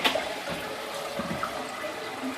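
Water rushes steadily through a tank driven by a strong pump, a continuous close hiss and gurgle with no talking.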